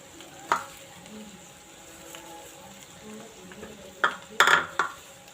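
Curry leaves dropped into hot oil for a Karnataka-style churumuri tempering, giving a low steady sizzle with a few sharp pops and spatters, one early and a cluster of louder bursts near the end.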